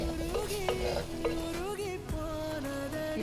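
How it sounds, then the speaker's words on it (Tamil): Chili powder and tamarind water sauté in a pan for a fish and raw mango avial, with soft stirring and scraping under steady background music and no speech. "பச்சை வாசனை போகிற வரைக்கும் நல்லா வதக்கிக்கலாம்."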